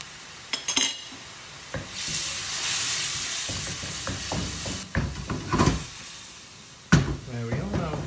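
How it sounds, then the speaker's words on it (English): Chopped onions frying in a pan seasoned with salt and black pepper give a steady close sizzle, broken up by scraping spoon strokes and a few sharp clanks against the pan, with a voice briefly speaking near the end. "Just to sort of cook up the onions,"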